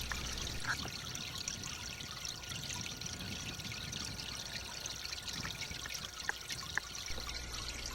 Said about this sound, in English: capturing the sounds that it is making as it drips on the water